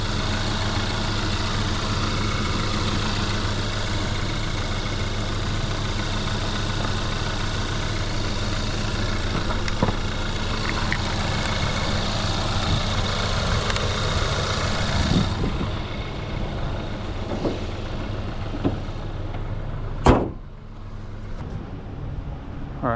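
A RAM truck engine idles steadily with a low, continuous rumble for the whole stretch, loud and close, easing slightly near the end after a brief sharp knock, with no talking over it.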